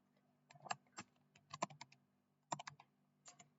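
Computer keyboard keys clicked in short, uneven bursts while entering code, crisp close taps separated by brief pauses against a faint steady hum.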